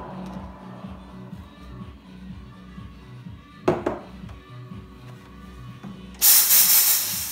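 An espresso machine steam wand steams oat milk at a home amateur barista championship. A low hum and faint clinks run through, with a sharp knock midway, before a loud, bright burst of steam hiss near the end.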